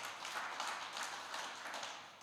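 A church congregation applauds for God during a worship service, many hands clapping in a soft, fairly distant, steady patter that swells slightly in places.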